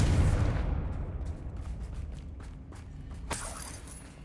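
A Confringo blast spell in the video game Hogwarts Legacy lands as a loud, booming burst that fades into scattered rumbles and small pops, followed by a sharp second crack near the end. No one speaks.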